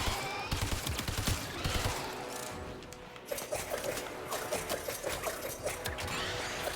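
The Nidus Prime primary weapon in Warframe fires continuously at enemies, a dense stream of rapid game gunfire with crackling impacts that stays loud throughout.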